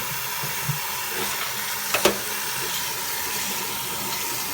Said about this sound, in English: So run this with cold water for a bit.